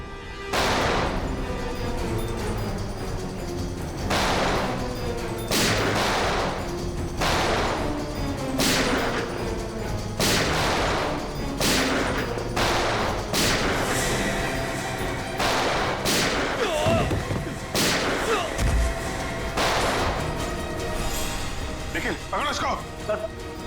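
Sharp gunshots crack repeatedly through a tense scene in a TV crime drama set in a palace, irregularly spaced single reports mixed with voices and dramatic background sound.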